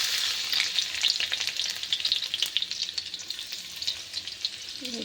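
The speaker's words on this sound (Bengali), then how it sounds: "তো আমি রসুন দিয়ে দেবো ফোড়ন দিয়ে" Garlic sizzles in hot oil for a tempering of methi aloo, a bright, close, continuous crackle with quick spattering pops and some stirring, steady and fairly loud, with no talk.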